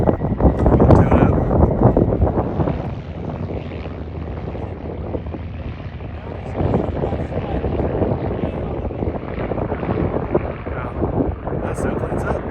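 Small plane engine running up at Minden airport, a steady broadband roar that stays loud throughout, mixed with wind buffeting the microphone, with voices talking over it.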